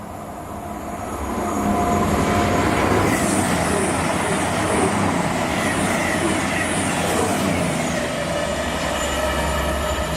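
A pair of coupled Class 220/221 Voyager diesel trains roars past close by on the line toward Liverpool, a loud steady rumble with wheel squeal and rail clatter building over the first two seconds and holding throughout.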